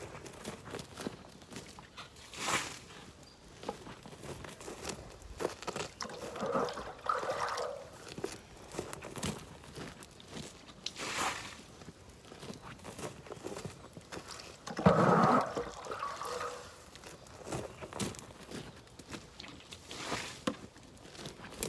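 Water scooped by hand out of a garden pond, bucket by bucket, with scattered splashes and sloshing pours at irregular intervals, fairly close and quiet, one louder pour standing out midway.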